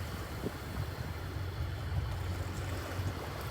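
A sailboat motor-sails off French Polynesia between Huahine and Raiatea, its engine a steady low rumble under a constant wash of wind and water noise.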